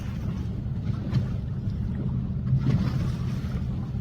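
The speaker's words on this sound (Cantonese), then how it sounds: "其實咧，我哋都 feel 到有浪㗎，因為頭先有一紮快艇經過咧，我哋隻船都會喐㗎" Kayaks on the sea off Hong Kong bob in choppy wake left by a group of passing speedboats, a steady low wash of water and wind rumbling throughout with faint splashes slapping against the hulls.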